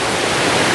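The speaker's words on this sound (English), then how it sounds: "it is quite a long waterfall here" Three-tier waterfall at Dabanggre village in West Garo Hills, Meghalaya, a loud, close, continuous roar of falling water with no breaks or talking.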